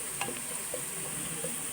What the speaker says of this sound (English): Now, after 2 minutes, My onions are getting brown in color.